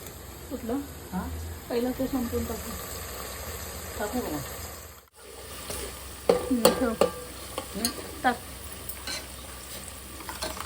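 A steady sizzle of spices frying in a pan runs throughout with bursts of stirring and scraping, while someone talks over it.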